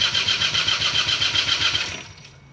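A paramotor engine runs in a short pulsing burst of buzzing revs close by, then cuts off and fades out.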